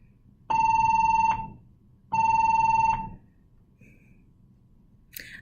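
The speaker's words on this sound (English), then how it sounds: "Of course, the phone would ring, right?" A telephone rings twice, each ring a bright electronic warble lasting under a second, close and loud with a pause between, followed by quiet room tone and a brief faint tone.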